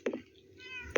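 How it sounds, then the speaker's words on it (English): Short meows from pet cats in the video game Minecraft, one pair of quick mews at the start and another at the end, fairly close with quiet gaps between. "These are all my cats"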